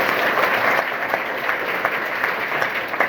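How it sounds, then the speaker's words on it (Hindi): An audience claps for mothers at a school talk. The applause is dense, loud and sustained across the whole stretch, with no voices standing out. "मां के लिए जोरदार ताली होनी चाहिए।"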